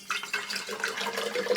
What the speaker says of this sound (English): you just fill the bottle up with water